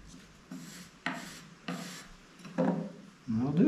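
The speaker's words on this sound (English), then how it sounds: "So just a lot of rubbing in the pâte and filling these holes." Wood filler paste being rubbed and pressed into holes in an old wooden family heirloom, giving several separate scraping, rasping strokes at close range, each a second or less, with short pauses between them.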